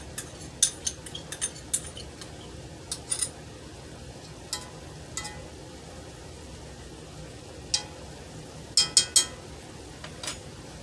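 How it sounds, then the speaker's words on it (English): A spoon is pulled from a cutlery drawer in a home kitchen, with scattered light metallic clinks and rattles in bursts over a soft background hiss. "Just wanted to grab a spoon here."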